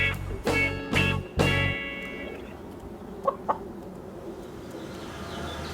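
Several loud, close clucks and squawks from backyard chickens in Vancouver come in a quick burst, followed by a few fainter clucks over a low background hum.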